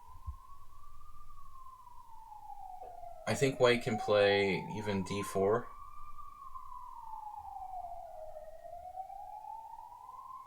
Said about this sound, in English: Why are Hungarian ambulances so freaking loud when there's no traffic